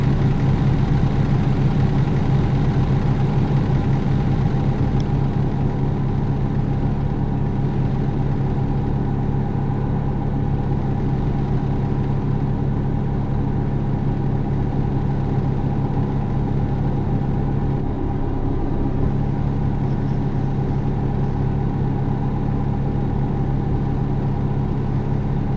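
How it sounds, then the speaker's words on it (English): A truck engine idles in the American Truck Simulator video game, a steady, low rumble and faint tonal hum, continuous and unchanging throughout, with no talking. "the engines on"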